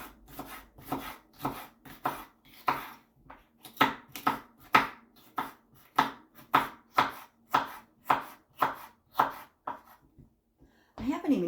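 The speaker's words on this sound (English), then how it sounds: "I'm going to cut up this green pepper." A knife chops a green pepper on a cutting board with steady, close, evenly spaced strikes, about a dozen in quick rhythm, with no talk over them.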